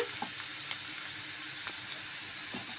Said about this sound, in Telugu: వేసి బాగా వేపుకుందాం ఇప్పుడు ఉల్లిపాయలు ఇలా వేగాయి కదా